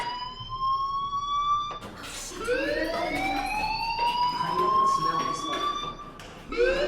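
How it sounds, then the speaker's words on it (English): A school fire alarm in the video game Life is Strange wails in a loud, rising electronic sweep that repeats, sounding close, with a voice talking over it. "Hey, do you hear that fire alarm?"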